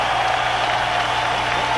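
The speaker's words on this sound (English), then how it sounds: "how about a round of applause for these 2 heavyweights in the ring here tonight" Boxing arena crowd applauding two heavyweights, Alex Stewart and George Foreman, in the ring: a dense, steady roar of clapping and crowd noise with no break.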